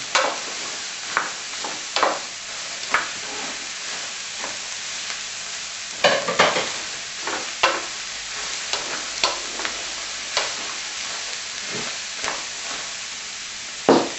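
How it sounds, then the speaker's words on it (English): Vegetables sizzle steadily in a pan with pork juices, with repeated scraping stirs at irregular intervals over continuous frying hiss; close and fairly loud, with no talking. "we're just moving them around so they start to cook and they get some of the flavour of the pork from the bottom of the pan"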